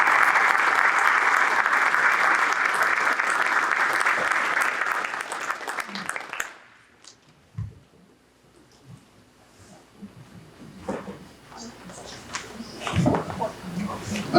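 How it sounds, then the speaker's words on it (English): An audience at a Pearl Harbor remembrance service applauds for about six seconds, a broad wash of clapping that stops abruptly, leaving a quiet room with scattered faint sounds and brief talk. "A round of applause, please,"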